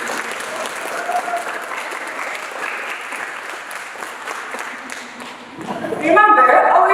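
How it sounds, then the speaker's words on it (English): A group claps during a workplace safety team presentation, a moderate patter that fades slightly before a louder, brighter burst of clapping and voices swells in near the end. "Clap your hands."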